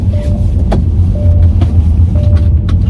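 A taxi car driving off in Kyiv, heard from inside as a loud steady engine rumble with a low drone, a few short clicks and faint chimes over it.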